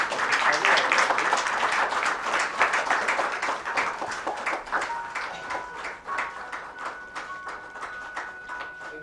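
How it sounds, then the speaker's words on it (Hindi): An audience at a literary award event applauds in a dense, steady wash of clapping that slowly thins and fades. A faint tone and murmuring voices can be heard beneath it. "तालियां बजती रहे"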